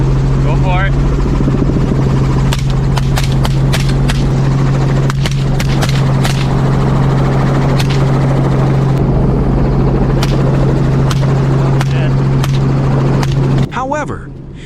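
A helicopter used for wild boar hunting gives a loud, steady engine roar throughout, with sharp cracks scattered over it and a voice briefly heard at the start and near the end.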